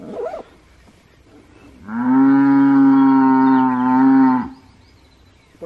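A cow on a cattle ranch in San Vicente, El Salvador gives one long, loud, close moo lasting over two seconds, framed by quiet outdoor background.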